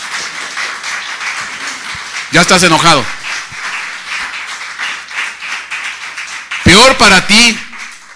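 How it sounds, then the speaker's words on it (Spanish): Church congregation breaking into two short bursts of applause, the first around the middle and the second louder near the end, between stretches of a preacher's voice over background music. "¿Le puedes dar un aplauso al Señor?"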